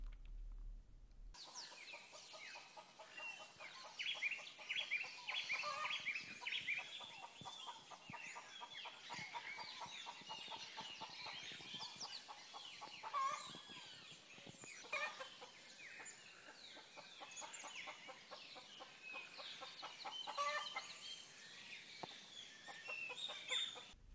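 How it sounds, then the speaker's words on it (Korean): Birds and clucking chickens recorded in São Bento, a small village in Brazil, calling over and over in a dense, steady outdoor chorus that stays fairly quiet and unbroken for the whole stretch. "브라질에서 녹음한 새소리도 있어요"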